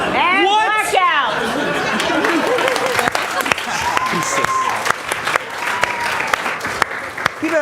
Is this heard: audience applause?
yes